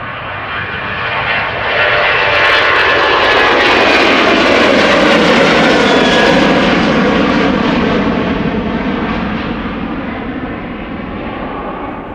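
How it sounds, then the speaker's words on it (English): A Boeing 737-800 passes at Schiphol with its jet engines building to a loud, close roar that holds steady, then slowly fades and thins, with no talk. "737-800, flight 421, 18 years old, first flight November 2005"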